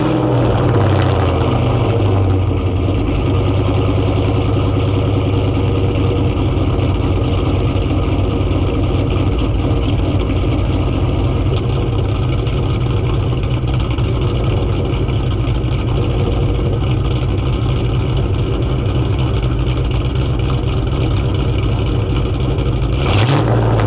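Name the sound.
cammed Mustang GT V8 with catless X pipe and Loudmouth mufflers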